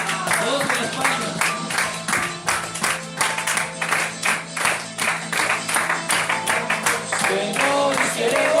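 A church congregation claps along in a steady, rhythmic beat through a worship service, sharp overlapping handclaps repeating evenly throughout, with voices and music faintly underneath.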